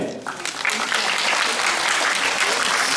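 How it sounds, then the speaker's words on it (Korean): An audience applauds the winner of the culture category grand prize, actor Lee Min Ho, at the 2017 National Brand Conference awards ceremony. The clapping is steady and dense, with cheering or talk faintly mixed in. "우리 모두의 박수를 담아 드리겠습니다"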